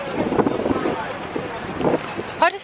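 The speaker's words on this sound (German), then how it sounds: "Heute ist ein bisschen windig," Wind buffets the microphone at the bow of a boat deck on a breezy hot day near Alanya, with gusty rumble and splashy noise while someone speaks German over it.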